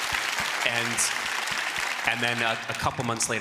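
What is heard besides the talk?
audience applause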